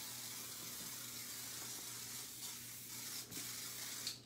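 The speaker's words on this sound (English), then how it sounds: "And I am going to spray the hair." Hairspray sprays onto a short layered haircut, a continuous hiss running for a few seconds, faint and close, with a few small clicks and rustles.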